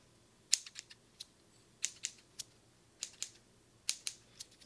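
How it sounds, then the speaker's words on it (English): Scissors snip close to the microphone in a quiet room during a gentle Reiki cleanse, with a string of sharp, crisp clicks, some single and some paired, spaced irregularly. "Let me just do one more quick cleanup with the scissors."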